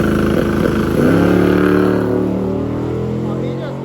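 A 10-second Mopar drag car launching at a drag strip, a loud engine roar that rises and then gradually fades, with a voice talking over it.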